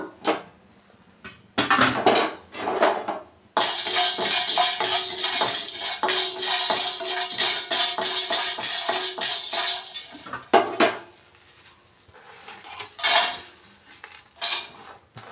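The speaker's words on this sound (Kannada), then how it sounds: "ಈಗ ಒಂದೊಂದೇ ಹಾಕ್ಕೊಂಡು ಎಲ್ಲನೂ ಫ್ರೈ ಮಾಡ್ಕೊಳ್ಳೋಣ ಯಾವುದೂ ಆಯಿಲ್ ಬಳಸ್ತಾ ಇಲ್ಲ ನಾನು" Biryani masala spices such as turmeric, star anise and marathi moggu are dry-fried in a pan without oil, giving close, repeated metallic scraping and clinking of a utensil against the pan in bursts separated by brief pauses.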